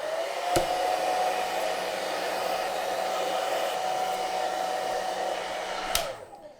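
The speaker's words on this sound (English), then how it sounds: "medium high heat, so that's number 2 or 3 on my hair dryer" A hair dryer runs on medium-high heat with a steady, loud whooshing hum, switched on with a click at the start and cut off with another click near the end, no voices.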